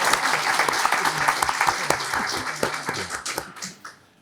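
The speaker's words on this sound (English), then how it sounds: "let's give a little better round of applause" Audience at a Chamber of Commerce city council candidate forum breaks into a round of applause, a dense burst of many hands clapping that holds steady and then tapers off.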